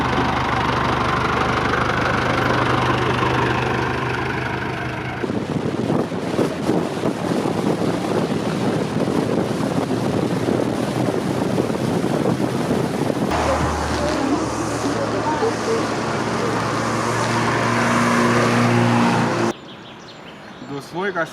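A Fiat X1/9 roadster's small engine runs in a steady idle-like hum, with wind buffeting the microphone through much of it and a faint voice at times.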